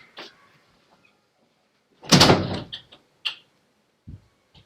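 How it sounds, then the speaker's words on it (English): A household door shut in one loud burst with a rattling thud, surrounded by a few short knocks and clatters in an otherwise quiet room. "Please shut my door."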